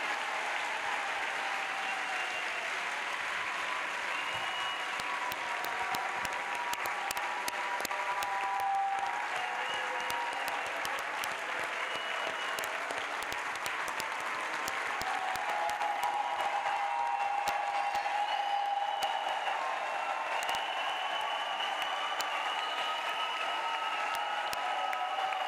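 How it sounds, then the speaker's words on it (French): Sustained applause from a large crowd at an evangelistic crusade, clapping for Jesus Christ, steady and dense throughout with brief cheers and faint voices mixed in. "And now clap for Jesus Christ."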